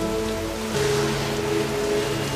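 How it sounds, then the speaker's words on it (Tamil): Storm wind and heavy rain effect for a Bible story about a ship at sea, a steady broadband rush of rain with a low sustained tone, swelling slightly louder partway through and continuing without speech. "புயல் அடிக்குது, காத்தடிக்குது."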